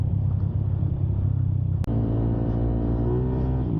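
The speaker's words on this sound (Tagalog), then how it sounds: "Sana narinig yung makina." A Yamaha Nmax 232cc scooter engine rumbles steadily on a night ride, recorded close through a helmet intercom mic. The drone is continuous, with a brief dropout and a slightly rising tone afterward.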